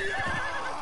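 Horse in the game Conan Exiles lets out a single short whinny, a wavering tonal call that lasts under a second, close and moderately loud over a steady game background.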